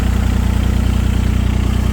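A 2015 Yanmar VIO17 mini excavator with a diesel engine idling, giving a loud, close, even chugging with a rapid regular pulse and a deep low rumble, running steadily alone.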